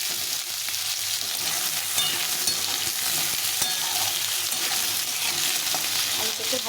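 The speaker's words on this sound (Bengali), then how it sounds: "কিছুটা আলু ছোটো ছোটো করে কেটে নিয়েছি, ডুমো করে আলুটাকে ভেজে নিতে ভালো করে।" Diced potatoes fry in a pan with a steady, close sizzling hiss, accompanied by repeated soft stirring and scraping sounds, and no one speaks.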